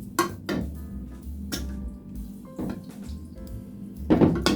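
A long-handled spoon stirs dried fruits soaking in a tall bottle, giving a few separate clinks and knocks against glass with wet sloshing between them, close and fairly quiet.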